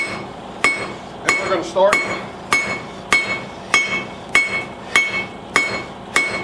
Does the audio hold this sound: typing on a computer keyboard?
no